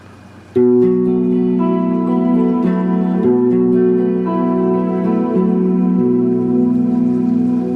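An electric guitar plays sustained chords and notes through a Strymon Cloudburst ambient reverb pedal, each one ringing and blending into the next; loud and steady, no voices.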